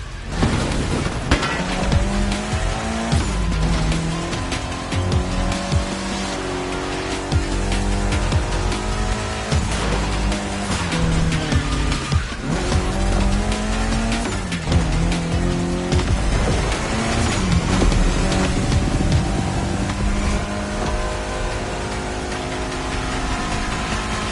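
Race cars roar through a The Crew Motorfest race, loud revving engines rising and falling with repeated gear shifts, tire squeals and occasional booms, continuous and close throughout.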